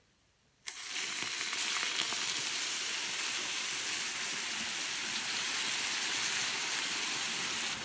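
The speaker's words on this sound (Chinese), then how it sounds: "这时候开小火，先煎2分钟" Flower rolls pan-frying over low heat give off a steady, even sizzle that starts abruptly and holds at constant loudness, close and alone without voices.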